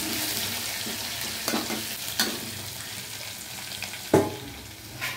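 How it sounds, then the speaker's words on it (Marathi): Cumin, mustard seeds and ginger-garlic paste sizzle in hot oil, a steady close frying hiss with a few sharp spoon clinks and stirring knocks, no talking. "तेल, जिरं मोहरी आणि अद्रक लसूणची पेस्ट टाकली"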